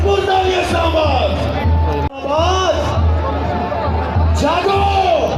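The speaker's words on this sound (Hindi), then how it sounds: "भरपूर तालियां इस्लामाबाद।" A large crowd at an Independence Day celebration on the Parade Ground in Islamabad cheers, whoops and claps in a loud, continuous roar. A voice comes over a loudspeaker above the crowd.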